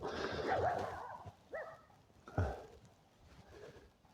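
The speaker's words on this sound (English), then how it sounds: "She's barking at the beals." A dog gives a few faint, scattered barks at a distance against quiet background noise.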